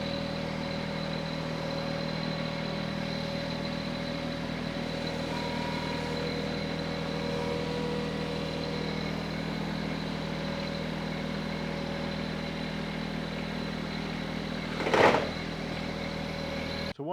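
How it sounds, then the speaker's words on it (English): A Mahindra 1100 series compact tractor engine runs at a steady idle-like hum while driving over its belly mower deck, with a single sharp clank near the end. "First, we will take the tractor and just drive back up over the deck again."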